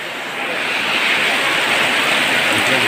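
Steady heavy rain pouring outdoors during a Biswakarma Puja outing in Tripura, a dense continuous hiss that holds loud and even throughout with no voices.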